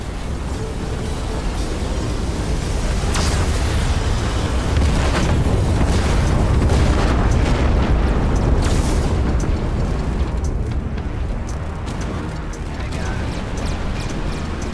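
Deep booming torpedo explosions in the space combat game Everspace 2 rumble loudly and continuously, with sharper bursts layered over a dense low roar for the whole stretch.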